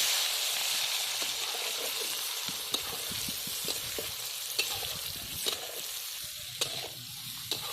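Onions fry in a hot pan with whole spices, giving a steady close sizzle punctuated by periodic clinks and scrapes of stirring, no voices.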